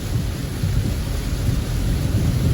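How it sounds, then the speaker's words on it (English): Heavy rain pouring in Montego Bay, Jamaica, a loud, steady wash of broadband noise with a low rumbling undertone and no break across the whole stretch. "Heavy rains here in Montego Bay."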